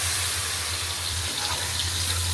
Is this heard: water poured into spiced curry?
yes